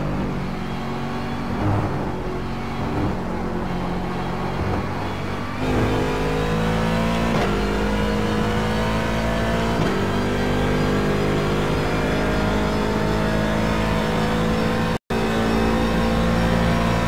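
Corvette C7R race car in iRacing on the Daytona road course, a loud continuous engine that climbs in pitch through the gears with repeated shifts, close and steady throughout.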